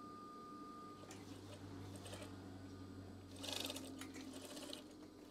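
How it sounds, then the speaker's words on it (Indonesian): Sewing machine stitching curtain fabric, a steady mechanical whir running throughout, with a louder burst of faster stitching about two-thirds through, close and alone without talk. "Oke, setelah dijahit"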